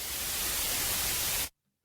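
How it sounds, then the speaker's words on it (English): Television white noise static hisses loud and steady across the whole range, then cuts off abruptly into near silence. "So that is just simply white noise from a television screen"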